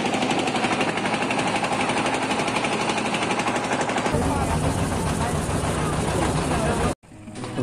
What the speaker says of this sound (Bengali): দেখুন ট্রলার করলাম ভালো স্পিডে যাচ্ছে।